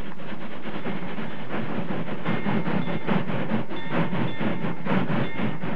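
A train rolls past with a steady rumble and rhythmic clatter of wheels over rail joints, fairly loud and continuous, with no voices, in a radio drama.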